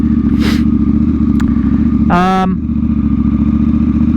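A KTM 990 Duke twin-cylinder motorcycle engine runs loud and close at a steady idle-like thrum, with a brief mechanical whine rising over it midway.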